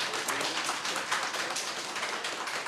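A conference audience applauds together in a hall, a dense, steady wash of many hands clapping that holds at an even level throughout, with no voices standing out.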